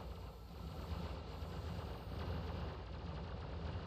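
Rapid, dense gunfire pelts a ship in Star Citizen, a steady rattling barrage that sounds close but fairly quiet and runs without pause.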